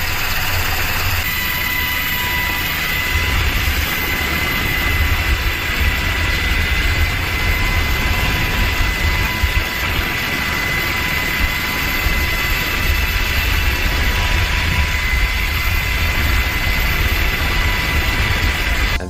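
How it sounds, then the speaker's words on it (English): Helicopter over the open ocean delivering medical supplies to a cruise ship, a loud, continuous, steady engine and rotor drone with dense low rumble throughout and no talking. "This helicopter delivering medical supplies to a cruise ship in the middle of the ocean."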